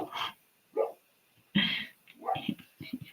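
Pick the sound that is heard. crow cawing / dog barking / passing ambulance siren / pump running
dog barking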